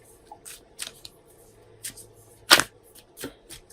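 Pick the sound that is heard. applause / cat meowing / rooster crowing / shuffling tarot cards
shuffling tarot cards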